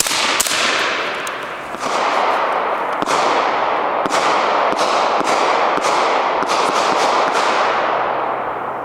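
Rapid sharp cracks ring out from a VKTR VK-1 piston-driven AR-15 carbine with an 11.5-inch barrel, loud and close, about a dozen shots in quick irregular succession, each followed by a ringing echo.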